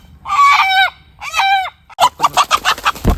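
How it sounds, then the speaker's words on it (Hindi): A chicken lets out two loud, close squawks, then breaks into a rapid string of sharp clucks as it runs off, with no talking. "मुर्गी भाग गई।"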